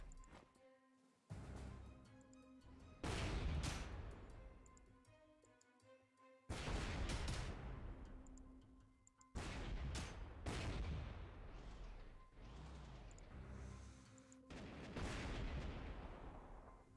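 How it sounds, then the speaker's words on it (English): Artillery and gunfire in the World War II strategy game Panzer Corps 2 on the Caucasus front: several heavy booming blasts in separate bursts with long decaying rumbles, loud and alone with no talk. "So we're going to go ahead and hit him with our artillery."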